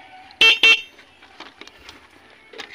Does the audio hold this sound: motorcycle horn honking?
yes